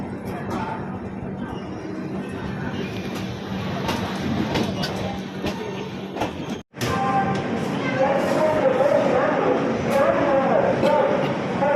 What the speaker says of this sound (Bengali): Well, train just Asansol station এসে পৌঁছালো।